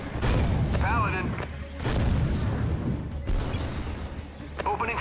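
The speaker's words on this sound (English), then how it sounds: "Opening fire." Gunfire and heavy booms from the real-time strategy game Act of War: Direct Action, with loud blasts rolling in repeated waves while a voice speaks briefly over the combat.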